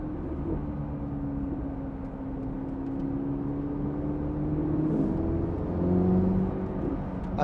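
A Chevrolet Corvette C8 ZR1 rolling gently through tight, slow curves, a steady low engine drone from inside the cabin that swells slightly as it accelerates, with no talk.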